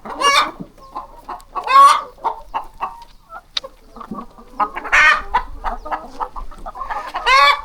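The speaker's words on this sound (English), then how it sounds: "And of course, you're going to need the chickens." Hens raised on a small Thai farm cluck and squawk up close in bursts, with overlapping calls and a few louder crowing-like cries rising and falling throughout.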